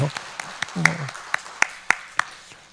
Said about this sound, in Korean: 박수 한번 쳐야 되겠어요